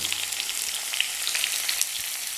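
Tomato, onions, small shallots and green chilies sautéing with cinnamon and cloves in a pan give a steady, soft hiss of frying with faint stirring scrapes, close and even throughout, with no talking.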